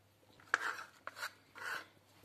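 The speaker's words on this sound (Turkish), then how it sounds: "bütün ciğerlerimizi bu şekilde uzun uzun doğruyoruz" Three soft strokes of a knife slicing through chicken liver on a board, each a short wet scrape, close and quiet with no talking.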